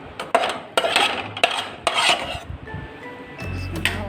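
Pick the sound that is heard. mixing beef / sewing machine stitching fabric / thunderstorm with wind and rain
mixing beef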